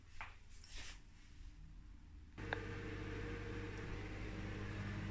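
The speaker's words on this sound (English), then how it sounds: "did it in the microwave" Microwave oven heating a Carolina Reaper curry ready meal: a steady low hum with a faint fan whir starts after a couple of soft clunks and runs on evenly, close by and alone.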